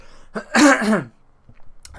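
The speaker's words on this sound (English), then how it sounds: "sorry, I need to cough" A single loud, harsh cough bursts out near the mic, followed by a quiet pause and a faint rustle.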